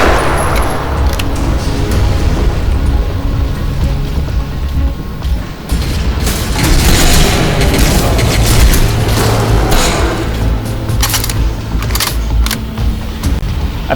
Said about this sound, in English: there's one problem with the pistol. It's like a 50 caliber gun.